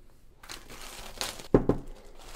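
Plastic wrap crinkles and tears as it is peeled off a 2019 MacBook Pro box, a close crackling rustle that builds to two sharp snaps near the end, with no talking.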